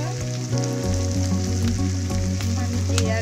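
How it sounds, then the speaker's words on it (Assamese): Mustard seeds frying in hot oil for an Assamese fish curry, a steady close crackling sizzle that runs throughout, with a faint tonal hum in the background. "এইখিনি সৰিয়হখিনি অলপ ভাজি ল'লোঁ"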